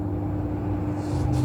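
A Sharp air purifier on its medium fan setting: a steady whooshing fan hum at moderate strength, continuous and even, with a faint low drone underneath.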